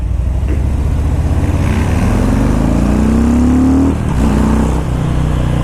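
A 2018 Harley-Davidson Breakout 114 motorcycle with its 114 cubic inch engine rumbles steadily on a test ride, its loud low drone climbing in pitch as it accelerates, easing briefly, then pulling on again, with no talk.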